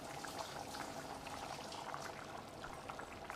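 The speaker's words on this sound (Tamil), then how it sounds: "பேஸ்ட்டாக அரைச்சி எடுத்து கொதிக்கிற குழம்புல ஊற்றிக்கலாம்" Steady bubbling and hissing of a pot of mutton curry at a boil as ground paste is poured in, with a continuous liquid churn throughout and no voices.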